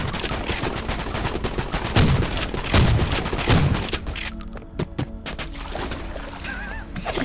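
Rapid gunfire in the Zombie Liminal Fishing video game, dense bursts of close, loud shots rattling continuously, thinning into scattered single cracks toward the end.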